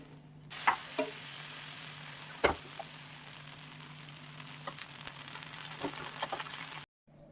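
Instant no-fermentation dosa frying on a hot pan after both sides have crisped, giving a steady close sizzle with scattered soft pops and crackles, then cutting out suddenly near the end.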